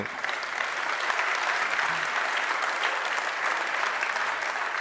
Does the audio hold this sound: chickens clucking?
no